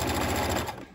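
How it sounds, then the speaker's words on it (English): A sewing machine runs an edge stitch along a collar seam line, a loud close rapid needle chatter that stops shortly before the end. "go ahead and create a edge stitch along the seam line to keep that seam allowance"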